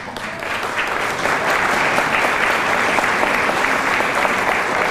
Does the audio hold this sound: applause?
yes